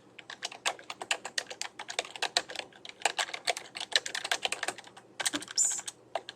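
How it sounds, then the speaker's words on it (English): Fast keystrokes clatter on a computer keyboard in a quiet room, arriving in quick bursts with short pauses between words. "we are going to type in Santa Rita Planning Department"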